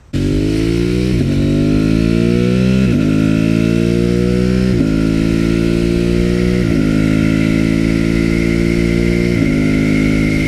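A motorcycle with an aftermarket exhaust and quickshifter runs loud and close, its pitch climbing then dropping sharply several times in quick succession as gears shift rapidly, with a throaty exhaust note.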